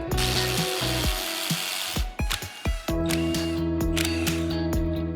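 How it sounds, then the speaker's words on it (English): A hand ratchet clicks rapidly and loudly up close while loosening bolts on the CP4 fuel pump bracket of a BMW engine, bursts of fast pawl clicking with short pauses between strokes. "we'll remove these two bolts holding the actual CP4 pump into the block"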